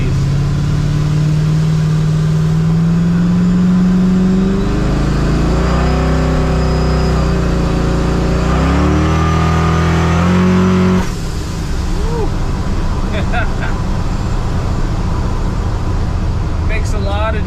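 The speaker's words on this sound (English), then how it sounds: "It's a D1 Pro Charger, and it makes a lot of noise" A car engine fitted with a D1 ProCharger supercharger revs loud and close, its pitch sweeping up and down through several throttle blips before dropping to a rougher idle with faint whine and chatter.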